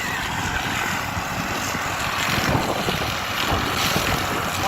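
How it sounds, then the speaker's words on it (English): Gusty wind buffets the microphone in a continuous rumbling roar, fairly loud, with no voices. "Hopefully you can hear me with this wind."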